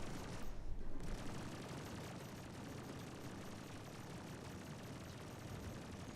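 Ship weapons fire in a continuous, dense barrage during a Star Citizen space battle, a roaring rapid-fire rumble that stays loud and unbroken for several seconds after a brief opening burst.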